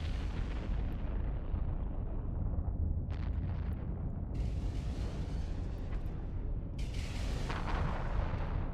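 Widow ships in EVE Online firing their weapons, heard as deep rumbling booms over a heavy low drone, with sharper bursts landing around three seconds in and again near the end.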